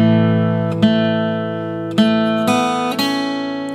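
Acoustic guitar plays the third measure of a song as a chord melody, with a sustained ringing chord and four clear picked notes or strums spaced about a second apart, close and alone.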